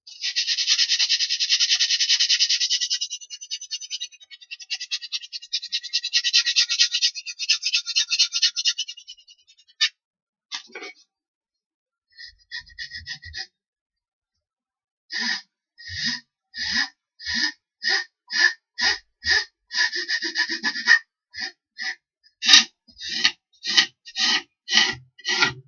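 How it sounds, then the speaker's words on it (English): Hand filing and sandpaper rubbing on a homemade windmill propeller: long raspy strokes at first, then a pause with a few faint scrapes, then a steady run of short rhythmic rasping strokes, close and fairly loud. "very carefully start to file our propeller. Really do it carefully. Use some sandpaper as well."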